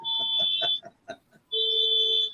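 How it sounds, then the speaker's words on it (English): A car alarm sounding from across the street, a loud electronic wail with steady high tones broken by a brief stuttering chirp sequence, then the sustained siren resuming. "Car alarm across the street."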